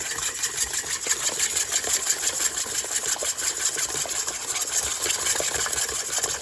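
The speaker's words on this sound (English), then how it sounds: "Now I'm going to whisk all that together." Brown sugar, rum and vanilla whisked together in a bowl, a steady fast scraping rattle of the whisk running continuously and fairly close, with no talking over it.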